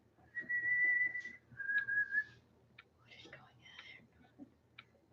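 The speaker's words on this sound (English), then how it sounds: "you hear another whistle" A clear, sustained whistle note, then a second shorter one, followed by fainter chirpy whistles and quiet rustling in the background.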